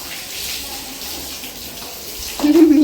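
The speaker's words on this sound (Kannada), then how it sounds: "ಮಾನಸ ನಮ್ಮನ್ನು ನೋಡಿ ಇನ್ಸ್ಪೈರ್ ಆಗಿ ಮತ್ತೊಮ್ಮೆ ನೀರು ಹಿಡಿತಾವಳೆ ಗೈಸ್." Steady broadband hiss of water running forcefully from a tap to wash off dust, growing louder and more forceful near the end.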